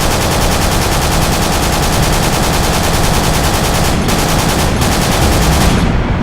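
Continuous rapid machine gun fire rattles in the Battlefield Iraq video game, loud and dense for about six seconds, briefly broken twice before cutting off at the end.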